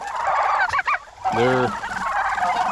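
Farm turkeys gobbling close by, a short burst of warbling gobbles followed by a louder rattling gobble, over a steady background of clucking birds; a voice briefly speaks a single word.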